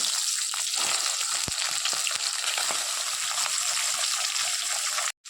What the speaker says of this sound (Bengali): মাছগুলো দিয়ে ভেজে নেব